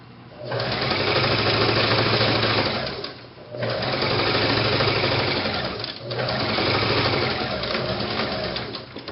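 A sewing machine stitches a quarter-inch seam on boutique ruffle pants in three close, loud bursts separated by brief pauses where the stitching reverses to back stitch.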